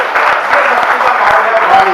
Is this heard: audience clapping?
yes